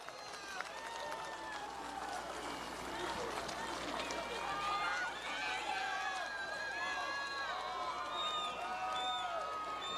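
An outdoor audience at a nursing pinning ceremony applauds family members, with sustained clapping mixed with cheers, whoops and excited chatter that swells and stays steady throughout.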